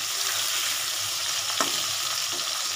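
Potatoes sizzle in a hot pan as they are stirred toward a light brown fry, a steady hiss broken by brief scraping stirs and no voices.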